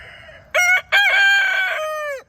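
A rooster crows once, loud and close, a drawn-out cock-a-doodle-doo with a brief break near the start.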